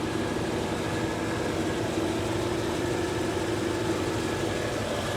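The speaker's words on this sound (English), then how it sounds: "Engine." A modified vehicle's engine runs steadily at idle, a low continuous rumble with a broad wash of noise, fairly quiet and unbroken for the whole stretch, with no voices.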